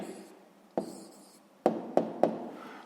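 A pen scratching on paper as a math answer is written out by hand, soft continuous scribbling broken by a few sharper taps and strokes, close and fairly quiet.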